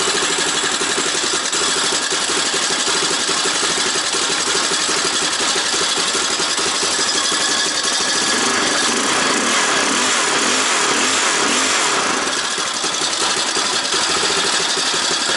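A small four-wheeler ATV engine on choke runs at a steady, loud, close idle with a rough buzzing tone, its rhythm wavering and stumbling briefly midway before settling again.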